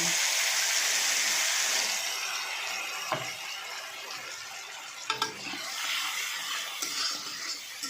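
Whole garam masala, two dried chillies and ground spice paste frying in a pan: a broad, steady sizzle that is loud at first and then eases, with a few sharp stirring knocks near the end.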